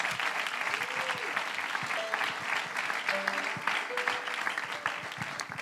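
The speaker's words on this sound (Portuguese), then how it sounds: "Aplauda Jesus." A church congregation claps for Jesus at a revival gathering, steady dense applause throughout with voices and faint cheers mixed in, sounding close and full.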